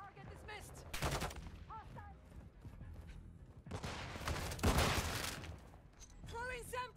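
Bursts of gunfire from the Call of Duty Modern Warfare 2 video game in multiplayer, with repeated volleys and loud flurries under shouted voice lines and chatter.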